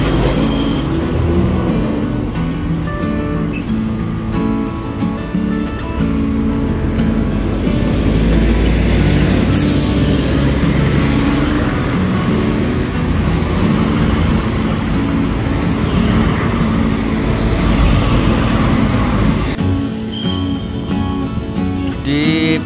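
A Dewi Sri bus pulls away from a roadside restaurant in Cirebon, its loud engine droning and rumbling steadily up close, with traffic noise in the background throughout.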